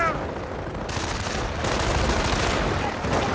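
Rifleman small-arms fire pins down Volksgrenadier infantry in an Eastern Front-era strategy game match, a dense, continuous crackle of shots and battle noise with a sudden louder burst near the start and steady intensity throughout.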